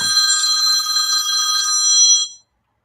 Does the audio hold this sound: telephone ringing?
yes